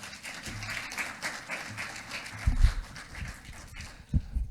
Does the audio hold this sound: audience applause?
yes